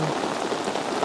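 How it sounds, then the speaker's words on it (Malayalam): Heavy rain pours steadily onto the ground and leaves along a path near Nilambur, a dense, close patter that lasts only a moment. "നമ്മളുടെ ഈ നല്ല മഴയത്ത് നമ്മളിതിങ്ങനെ ആസ്വദിച്ച് മുന്നേറുകയാണ്"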